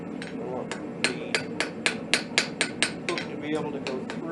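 A blacksmith hammers hot steel on a cold anvil while making a hook: about ten sharp, ringing blows land in a quick, even rhythm at close range, with soft workshop noise and no talking.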